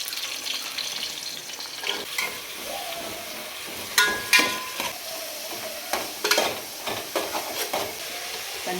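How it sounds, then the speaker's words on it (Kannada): Onions frying in a pan until browned, a constant soft sizzle with scraping and stirring knocks from a spatula, irregular clatters standing out over the quiet hiss. "ಅದೆಲ್ಲ ಈರುಳ್ಳಿ ಫ್ರೈ ಮಾಡ್ಕೋಬೇಕು ಕೆಂಪಗಾಗೋವರೆಗೂ"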